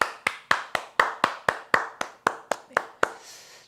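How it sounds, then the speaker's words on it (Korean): A church congregation claps in praise at the close of a Sunday worship service: about a dozen sharp, evenly spaced claps in a steady rhythm, fairly close and clear, with no talking. "이 찬양의 고백을 받으신 하나님께 우리 감사와 찬양의 박수"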